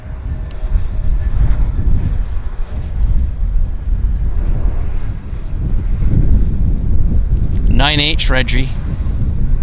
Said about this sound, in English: We've got a bizjet landing. Heavy bizjet, actually.